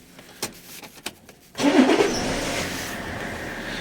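A BMW 5 Series engine starts with its original key: a few faint clicks, a short crank, then the engine catches and settles into a steady idle.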